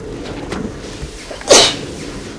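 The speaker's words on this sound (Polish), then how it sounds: "Kichać mi się chce." A single sharp sneeze bursts out loudly midway through, brief and close, over a quiet background with faint, indistinct murmuring.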